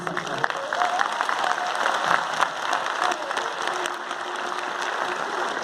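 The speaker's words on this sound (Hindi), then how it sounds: "तालियां आपकी कम थी" Steady applause from a large audience, a dense wash of clapping that holds evenly throughout with faint background voices.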